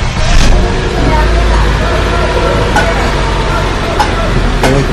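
A 2014 Ford EcoSport Titanium automatic starts up in a workshop, its engine settling into a loud, steady running rumble throughout, with a voice speaking over it.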